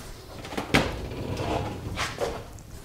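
The storage on an Incra router table is pulled out in a woodworking shop, making a few wooden knocks and sliding rumbles close by, with no talk.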